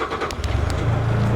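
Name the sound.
Bobcat S76 skid steer loader engine running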